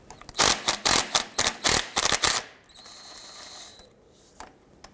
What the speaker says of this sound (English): We're going to use our extension and socket. Go ahead and remove that.